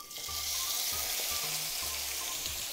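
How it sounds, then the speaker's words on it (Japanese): A thick pork steak for tonteki sizzles in garlic-infused oil in a pan over medium-low heat. The frying hiss is steady and close, with a few small pops and clinks. "この油でお肉を焼いていきたいと思います"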